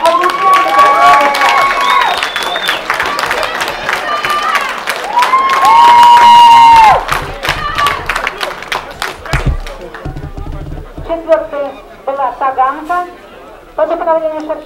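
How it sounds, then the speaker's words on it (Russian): A crowd at an equestrian games event at the Orenburg racecourse claps and cheers while an announcer talks over a loudspeaker in Russian; the applause fades after several seconds and the talking continues. "Аплодисменты."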